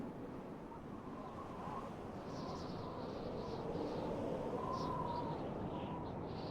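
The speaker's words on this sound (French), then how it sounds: "Le vent souffle fort aujourd'hui, je crains qu'une tempête n'approche." Strong wind blows in a video game with a continuous roaring, surf-like whoosh that swells slightly over time, while faint high chirps flicker above it.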